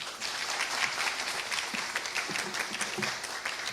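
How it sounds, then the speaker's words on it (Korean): Audience applause at a power distribution forum welcoming a university professor to the stage, a steady wash of many hands clapping in a hall, moderately distant and sustained without voices. "큰 박수로 모시겠습니다."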